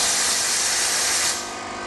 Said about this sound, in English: I like to let a bit of steam out too, just flush it out